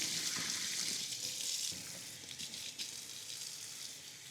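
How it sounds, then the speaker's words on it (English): Water runs steadily over a dirt bike air filter soaked in cleaner, rinsed from the inside out, producing a continuous close hiss of spray and splashing with brief shifts in flow. "then you can rinse it with water, rinsing from the inside out"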